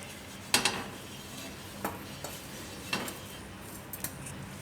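A cumin paratha roasts in oil on a pan with a steady, close sizzle, punctuated by a few sharp clinks and taps of a metal utensil against the pan.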